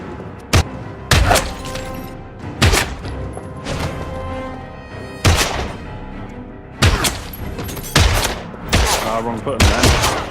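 Gunshots in the Heavy Rain video game: repeated loud, sharp blasts spaced a second or two apart, some in quick pairs, with resonant tails and background game sound between them.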